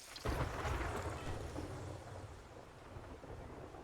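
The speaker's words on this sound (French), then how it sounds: "Il pleut bien." In the 7 Days to Die video game, a deep roll of thunder breaks suddenly and rumbles on over steady rain, fading slowly, fairly quiet overall.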